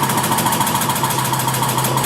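An Eldorado M60-30 twin spindle gun drilling machine runs at steady feed, giving a continuous close mechanical drone with a fixed low hum and a faint repeating whine, even and unbroken throughout.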